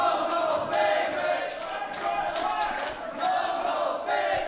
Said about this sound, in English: And this crowd firmly behind Jimmy